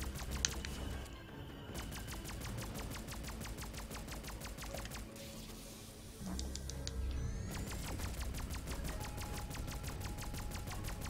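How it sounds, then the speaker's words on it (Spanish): Rapid bursts of gunfire in the video game Windfolk: Sky is Just the Beginning crackle continuously, with sharp repeated shots layered over a dense, busy background of game effects. "Estoy súper rodeado, tío, de disparos de estos."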